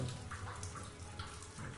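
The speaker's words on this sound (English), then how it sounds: "Water drain." Water rushes and gurgles as it drains in The Witcher 3: Wild Hunt, a steady close splashing flow with small pulsing surges.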